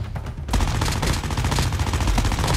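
Sustained gunfire from Call of Duty Mobile, starting abruptly after a brief quiet lead-in and continuing as dense, loud, overlapping shots with no talk.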